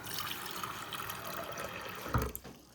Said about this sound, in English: we're gonna go ahead and fill this up with water